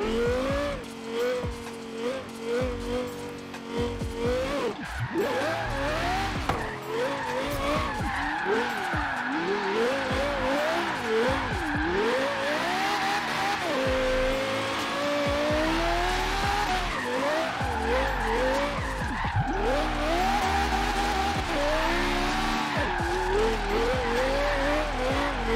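A car drifting in the racing video game Forza Horizon 3, long wavering tire squeals over a revving engine that rises and falls through the slides, loud and continuous.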